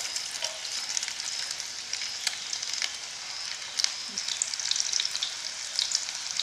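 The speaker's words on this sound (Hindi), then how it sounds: "टिक्कियाँ बना ली हैं मैंने, अब मैं इनको फ्राई करूँगी।" Chicken burger patties frying in hot oil: a dense, steady sizzle and crackle close up, with a few sharp pops and faint clicks scattered through and nobody speaking.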